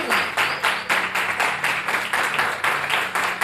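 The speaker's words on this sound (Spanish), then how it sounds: "Demuéstralo con un aplauso." Church congregation clapping together in a steady rhythmic beat, about three claps per second, loud and close, with no talk over it.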